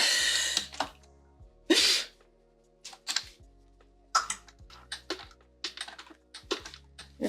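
A hand-cranked sewing machine slowly stitching along a curved zipper on a bag, making close, irregular mechanical clicks and clunks in an uneven rhythm.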